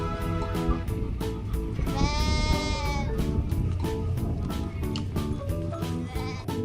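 Sheep bleating loudly and close, a series of wavering bleats with one long drawn-out cry in the middle, set over a constant backing of music.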